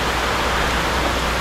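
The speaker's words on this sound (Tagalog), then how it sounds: "Talagang kitang-kita mo yung hangin, yung pagpatak ng ulan, pagbuhos ng ulan." Steady roar of typhoon wind and heavy pouring rain, a dense continuous wash of noise with no breaks, loud and close throughout.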